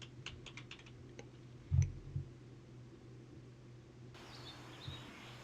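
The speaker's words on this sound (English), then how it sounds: "I'll do a little mouse and keyboard for this part." A computer keyboard and mouse are used in a quiet room, with a few scattered clicks and key taps and one louder thump, all faint against a low background hum.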